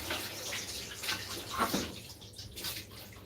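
Running tap water rinses something in a kitchen, a steady close splashing hiss that swells briefly midway and then eases to a softer trickle, no speech.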